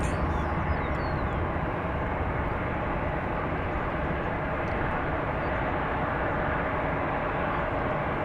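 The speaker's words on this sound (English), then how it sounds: "An Airbus A320." Airbus A320 jet at DFW Airport, a loud, sustained broadband engine roar heard at close range, steady and unbroken with no talking.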